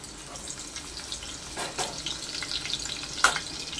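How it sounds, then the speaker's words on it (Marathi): Crushed garlic sizzling in hot oil for a Konkani prawn masala, a continuous close crackling fry with occasional louder pops and stirring clatter. "तेल गरम झालं की त्याच्यामध्ये आपल्याला ठेचलेला लसूण घालायचं आहे"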